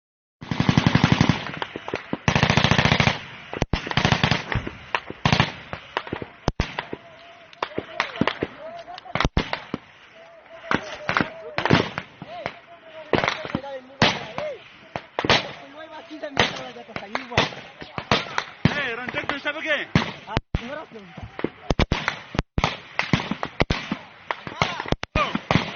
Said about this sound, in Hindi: BM-21 रॉकेट फायर के बाद तालिबान मुजाहिदीन ने फ्रंट खोला